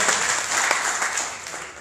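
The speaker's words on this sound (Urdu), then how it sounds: "ان کے لیے بھی تالیاں بجا دی" An audience breaks into applause at a speech event, a dense, steady patter of many hands clapping fairly close throughout.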